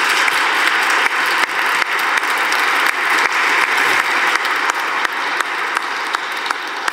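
A congregation at a Catholic Mass in Munich's St. Maximilian church claps steadily throughout, with regular accented beats suggesting rhythmic clapping along with music, filling the space evenly.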